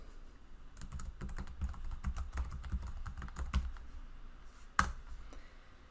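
Close computer keyboard typing in irregular bursts of soft key clicks, with a pause and then one sharper click near the end.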